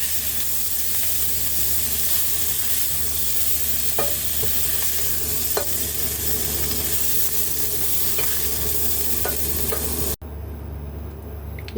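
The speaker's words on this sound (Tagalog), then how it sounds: "So, igigisa natin yung ating mga spices." Spices sauté in a hot pan for beef afritada, giving a loud, continuous sizzle with a few sharp utensil taps, until the sound cuts off abruptly near the end.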